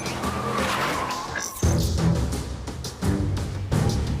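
A car accelerates and skids toward a group of fleeing teens outside a restaurant, its engine roaring loud and near, with tire noise and abrupt shifts in the roar partway through.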